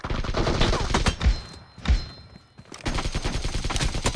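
Rapid automatic gunfire in a team-based base-capture shooter game, dense bursts of shots with heavy thuds, a brief lull in the middle, then sustained fire resuming, loud and close.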